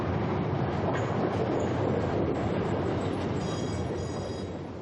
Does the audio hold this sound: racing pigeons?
no